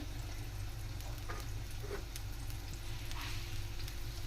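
Onion dosa with thinly sliced onions pressed into the batter sizzles in oil on a pan, a steady close crackle with soft pops and light stirring sounds throughout.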